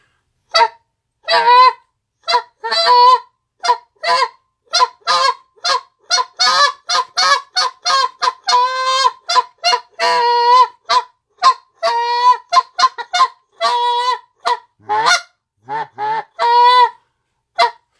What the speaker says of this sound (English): here's a jump note, mix it in with some long, drawn-out tubby moans